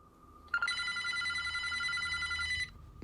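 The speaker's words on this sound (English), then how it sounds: "the phone doesn't seem to be connected to anything, and yet it continues to ring demonically" Old telephone bell ringing in a played video, one loud sustained metallic ring lasting about two seconds, then stopping, with no voices.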